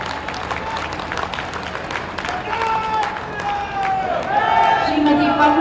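An audience at a government event in Kanpur claps steadily, a broad patter of many hands that swells slightly, with voices and crowd murmur mixed in.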